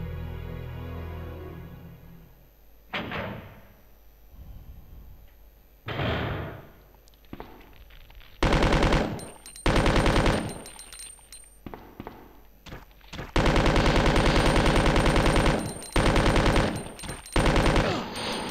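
Automatic rifle fire in Resident Evil 2, loud sustained bursts starting partway through and returning in long rattling streams, preceded by a few scattered thuds and quieter sounds.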